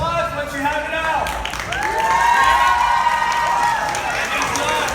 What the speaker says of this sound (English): One loud round of applause once you have it out.